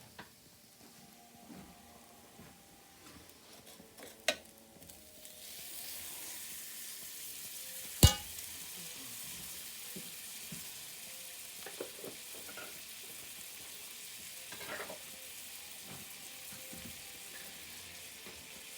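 Butter sizzles and browns in a pan while Mexican rice cooks, a low continuous frying hiss that thickens after a few seconds, with a sharp clack midway and faint utensil sounds, no voices.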